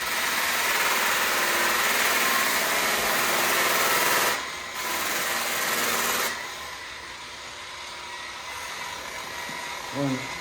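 A buffing wheel on a polisher spinning at 1400 RPM, a steady close whir and rasp that drops away partway through, then returns more quietly.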